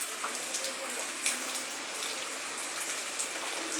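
Steady rain falls outside a house in Kollam, a dense hiss of drops with a few sharper patters on a surface nearby and no voices.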